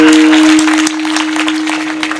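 Audience applause at a Marathi kirtan, a dense wash of clapping that starts loud and carries on steadily through the whole moment, with a steady tonal hum underneath.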